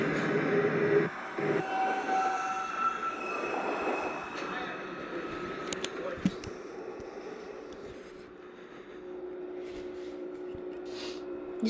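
A New York subway 1 train rumbles at Whitehall Street–South Ferry station, a loud, sustained rolling roar with a high whine and clanks that slowly fades, while an automated announcement voice speaks over it.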